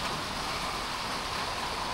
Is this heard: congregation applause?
no